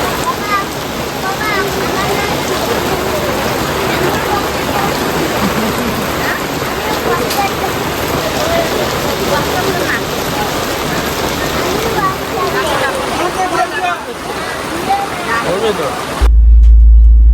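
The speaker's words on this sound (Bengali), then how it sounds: "বৃষ্টি কমার আর নাম নেই।" Heavy rain pours onto a pandal at a rice-feeding ceremony, a dense continuous roar of drops drumming and splashing that stays loud and steady for the whole stretch.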